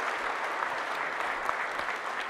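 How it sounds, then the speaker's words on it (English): An audience at a 1 Million Cups Kansas City gathering gives a warm round of applause, a soft, distant, even patter of many hands clapping that holds steady throughout. "Give them a warm round of applause"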